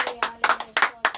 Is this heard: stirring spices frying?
no